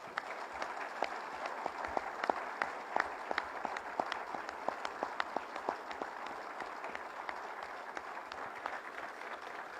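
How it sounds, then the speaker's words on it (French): A large audience at an official ceremony breaks into sustained applause, many distinct hand claps ringing out over a dense steady patter, fairly distant and evenly paced throughout. "Je voudrais qu'ensemble, nous leur traduisions notre infini soutien à travers un tonnerre d'applaudissements."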